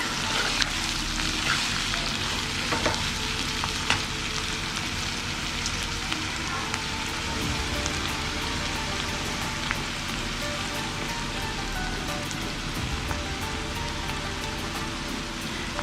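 Ginger garlic paste sizzles steadily in a hot pan for egg puffs filling, a continuous crackling hiss with occasional small pops and faint stirring, no voices.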